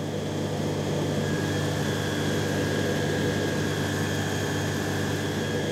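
An ultralight aircraft flies over the Camargue at about 300 metres, its engine a steady, loud droning hum with a tonal whine, continuous and unchanging with no talk.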